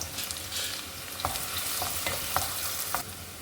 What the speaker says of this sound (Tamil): வெங்காயம் கொஞ்சமாக லைட் ப்ரௌனாக வந்துடுச்சு